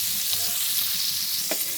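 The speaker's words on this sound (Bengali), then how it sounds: "মাছ ভাজা তেলের ভিতরে পেঁয়াজ কুচি কাঁচামরিচ কুচি দেয়া হয়েছে" Chopped onion and green chili sizzle loudly in oil left from frying fish, a dense continuous hiss close by with a brief louder crackle near the end.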